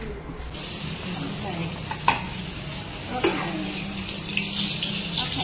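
Food fries in a pan for a second round, a dense continuous sizzle with a few scrapes and clinks from stirring, close and steady.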